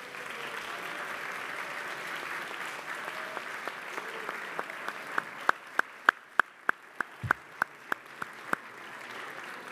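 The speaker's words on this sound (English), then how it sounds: "I want to give him a big round of applause." Applause at a New York City council meeting, a sustained round of clapping from the chamber that thins out into a few loud, separate claps near the end.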